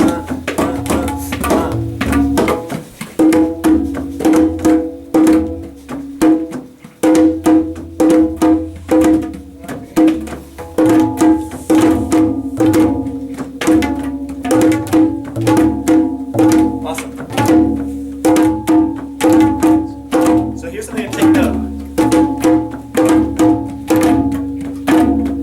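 Dulcimer played at a rhythm and melody workshop: a continuous run of struck, ringing notes over a sustained drone, dense and rhythmic, loud and close for the whole stretch with no talking.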